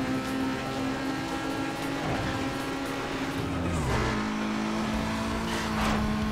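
A race car roars past in a Need for Speed Most Wanted race, with steady, loud engine drone, rising revs and whooshing passes blending into continuous motor noise throughout.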